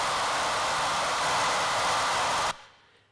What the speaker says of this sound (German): Das Föhngeräusch hören wir uns nochmal an.